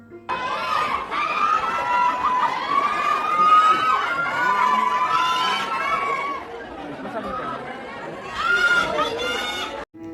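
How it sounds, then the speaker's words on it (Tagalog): Fans scream and cheer for Kathryn Bernardo and Alden Richards at a stage performance, loud shrill crowd shrieks rising and falling continuously for several seconds, with a final burst of screaming near the end. "Grabe ang hiyawan at tuwang-tuwa ang mga fans at supporters ni na Catherine at Alden."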